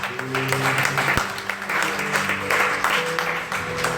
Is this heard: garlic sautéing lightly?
no